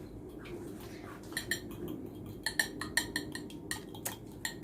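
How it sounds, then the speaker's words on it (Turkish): Eggs whisked in a bowl in a home kitchen, a fork or whisk clinking rhythmically against the sides in quick, close strokes that grow sharper toward the end. "Şimdi böyle güzelce çırpıyoruz."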